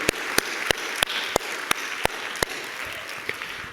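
A congregation at a church service applauds, a steady wash of clapping with a few sharp, evenly spaced loud claps standing out near the front.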